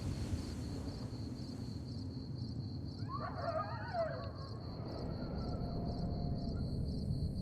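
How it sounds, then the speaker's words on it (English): In Fallout: New Vegas at nightfall near Primm, a distant wolf or coyote howl rises and falls faintly for a couple of seconds over a constant hiss of ambient wind and insect noise. "And wolves or coyotes in the distance around there."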